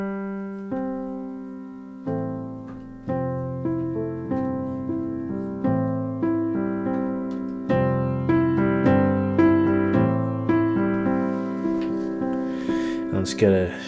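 The Maverick piano plugin plays a clear, gently paced melody with chords, its tone color knob set at the default middle, each note ringing and decaying with no other sound.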